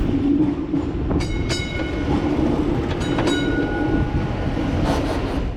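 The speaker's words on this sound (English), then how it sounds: "A collision between a passenger train and a car occurred in Hinsdale, Illinois." A passenger train rolls past close by in Hinsdale, Illinois, with a steady loud rumble, metallic squeals and clicking wheels over rail joints throughout.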